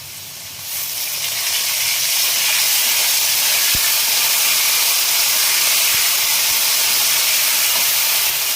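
Rice with pre-fried potato, ginger and green chilli frying in a pan: a loud, close, steady sizzling hiss that swells after a quieter start and holds evenly throughout, with no voices.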